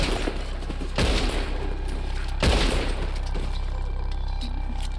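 Gunfire erupts during a hanging-rescue shootout in Red Dead Redemption 2, with two loud, sharp volleys and scattered shots over a constant low rumble of ambience.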